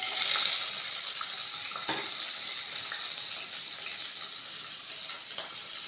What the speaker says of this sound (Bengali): তেলটা গরম হয়ে গেলে ক্যাপসিকামগুলো হালকা করে ভেজে নেব